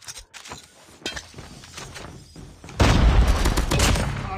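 A frag grenade blast in the Call of Duty: Mobile shooter, a loud sustained boom erupting partway through after scattered gunfire and game effects.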